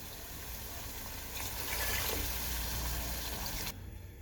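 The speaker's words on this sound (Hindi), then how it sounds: "अब मैं इसमें तकरीबन 4 गिलास पानी के ऐड कर दूँगी।" About four glasses of water are poured into a pot of aloo gosht, making a steady, close gushing pour that swells slightly midway and then cuts off abruptly.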